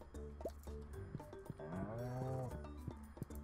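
Cows in the Stardew Valley farming game moo, a long drawn-out low moo in the middle framed by shorter clicks and tones from the game, fairly quiet with no talking.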